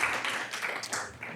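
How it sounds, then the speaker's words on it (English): Short round of applause from a board of education meeting audience after a unanimous vote, a moderate patter of scattered hands clapping with no talking. "Round of applause."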